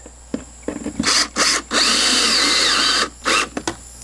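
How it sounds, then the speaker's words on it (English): A power drill with a number 2 Phillips bit, set to slow speed, drives screws into polypropylene on a U-stand installation. It whines loudly and close in several short bursts and one longer sustained run. "Put it on a slow speed for driving the screws in."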